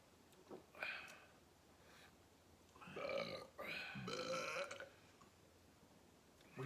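A long, drawn-out burp in a garage, rumbling in several loud, gravelly surges over a few seconds, with nobody talking.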